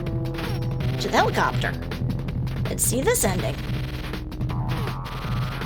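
Falling stones smash and crack in the video game Cave Story amid a constant rumbling game soundtrack, with a few sharp crashes in the middle while a person talks over the noise.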